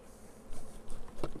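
Honey bees buzz around an opened hive box during a colony split for swarm control, a soft, close, continuous hum with a couple of brief louder passes near the end.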